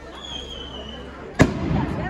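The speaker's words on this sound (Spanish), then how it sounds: "Ya están lanzando ahí los cohetes," A firework rocket bursting at a town festival at dusk, a single sharp distant bang after a soft background hiss, followed by a faint rumbling crowd.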